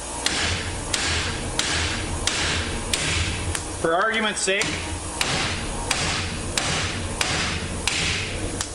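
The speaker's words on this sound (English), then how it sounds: "See if the hammer's a better alternative." Repeated sharp hammer blows on wheel studs during a 12mm stud upgrade on a Wildcat, evenly spaced metallic strikes about every half second, loud and close, briefly interrupted by a squealing scrape, with someone talking over them.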